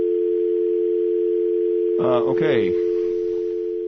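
Continuous telephone dial tone held steady across a failed call to a live radio showcase line, with a person briefly speaking over it near the middle.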